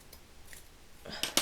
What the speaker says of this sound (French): je vais le couper peut-être un petit peu au ciseau